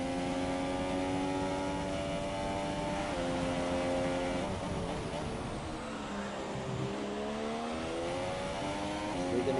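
A Formula 1 car engine in the F1 2017 racing game at Bahrain, a high-pitched continuous whine rising and falling through gear changes and lifts, steady and fairly loud throughout.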